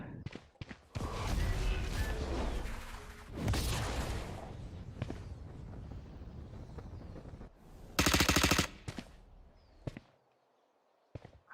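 Rifle fire in the Valorant tactical shooter game: scattered sharp shots, then a dense rapid burst of automatic fire near the end. Clicks and footsteps come between the shots, and a voice speaks briefly.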